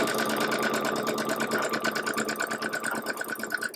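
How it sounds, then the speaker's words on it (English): Sewing machine running a 1/4 inch seam allowance on a sampler quilt block, a fast continuous rattling whir heard close up and unbroken for a few seconds, with no talking. "I'm going to sew that with a 1/4 inch seam allowance"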